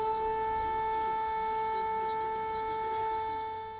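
An air raid siren sounds in a Ukrainian village, a steady two-tone wail that holds for several seconds, fairly distant and faint, then starts to fade near the end.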